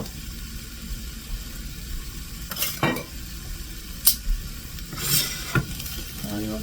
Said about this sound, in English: fry all this up